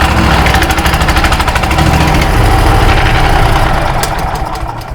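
A MechMaxx 8-inch wood chipper's small engine runs loud and steady nearby, with a rough idling rumble and a rapid mechanical knock throughout, easing slightly toward the end.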